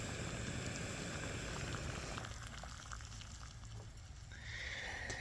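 500 ml of water churns at a rolling boil in a pot over a standard butane gas camp stove outdoors in a gentle breeze, a steady, dense bubbling roar that holds close and even throughout without any voices.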